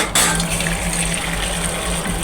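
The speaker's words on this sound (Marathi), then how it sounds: "ह्यातलं मी पाणी काढून घेणार आहे आमटीसाठी" Cooking water drained from a pot of boiled dal, a close, steady gush of pouring liquid that starts abruptly and runs without pause.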